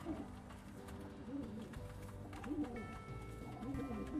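Pigeons drinking together give soft, rhythmic cooing calls in several short bursts, quiet and close against faint background noise.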